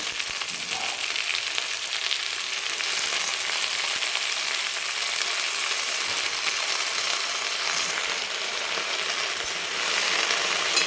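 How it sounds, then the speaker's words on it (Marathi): A whole bunch of leafy greens (tandulkunjir bhaji) tossed into hot oil where chilies were just fried, producing a loud, steady, close crackling fry that continues unbroken throughout, with no talking. "हे मिरची पण आपण तेलामध्ये परतून घेतल्यानंतर आता लगेच हे भाजी टाकणार आहे"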